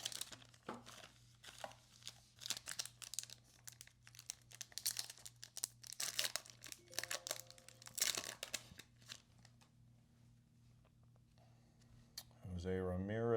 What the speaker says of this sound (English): I like having a lot of packs to rip open.